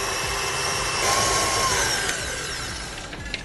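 Electric hand mixer whirring steadily as it blends cookie dough with two egg yolks added, a continuous motor drone that holds close and fairly loud throughout with a slight rise midway.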